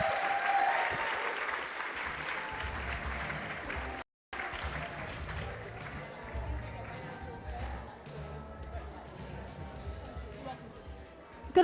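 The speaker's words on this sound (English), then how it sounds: "Can we give a warm round of applause for Natasha Briscoe?" Audience applause for speaker Natasha Briscoe at a 2018 talk on the science of Black hair: sustained clapping from a seated crowd, steady and fairly dense, with a brief gap partway through before continuing to the end.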